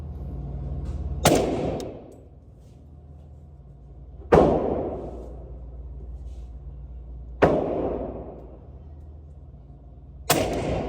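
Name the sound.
suppressed 8.6 Blackout rifle gunshots, 300 grain FMJ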